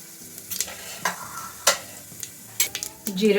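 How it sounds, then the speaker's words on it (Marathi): A quarter spoon of cumin seeds hits hot oil in a pressure cooker, giving short bursts of sizzling and spattering crackle between quieter moments, close and fairly loud. "तेल छानपैकी गरम झालं की त्यामध्ये पाव चमचा जिरं"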